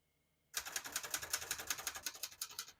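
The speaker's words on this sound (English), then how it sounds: "We're going to keep that on single for now and finish typing." Typing on a 1957 Hermes Rocket portable typewriter: a steady, close run of sharp mechanical key strikes, roughly five to six per second, starting abruptly after a brief quiet and continuing alone without talk.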